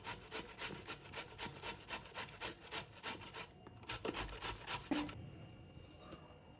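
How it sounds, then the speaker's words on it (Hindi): Carrots rubbed against the large holes of a coarse grater make quick, rhythmic rasping strokes close by, then pause briefly and resume before stopping, with no voices. "ये गाजरें सारी मैंने कद्दूकस कर ली है"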